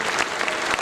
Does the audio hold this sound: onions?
no